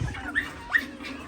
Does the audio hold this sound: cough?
no